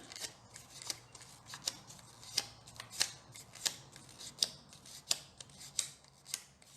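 Scissors round off the four corners of a paper piece for a Stampin' Up vase card craft, giving about ten crisp, evenly spaced snips close up with no talking.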